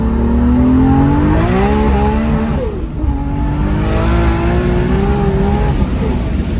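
A modified sleeper Toyota Supra accelerates hard, its engine note climbing loud and close through gear changes, with a brief dip at a shift before the revs build again.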